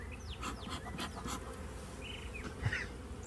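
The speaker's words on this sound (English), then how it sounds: "Did you hear the increase in their buzzing?" Honey bees buzzing in an opened hive during a spring inspection, a steady close drone with brief louder swells and passing individual bees, no talk.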